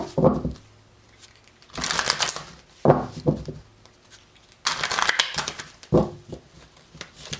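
Tarot cards are shuffled in several bursts of rapid riffling and flapping, close and crisp, with short pauses between rounds.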